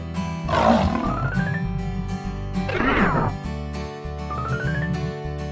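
A lion in a children's cartoon gives two loud roars, each a rough burst over cheerful looping background music.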